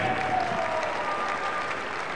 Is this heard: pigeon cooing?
no